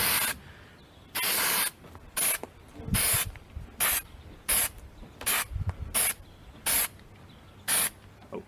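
An aerosol can of penetrant dye fires short, sharp bursts of spray at a boat propeller shaft during a crack check, about a dozen quick hissing puffs in a loose rhythm with quiet gaps between them.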